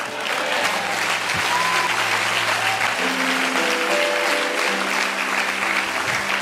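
A church congregation claps after a prayer at a French-language service, with steady, dense applause throughout and faint sustained musical tones underneath.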